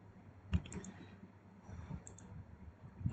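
A computer mouse button clicked a few times, sharp isolated clicks near the start, middle and end over a faint background hum, close and quiet with no talking.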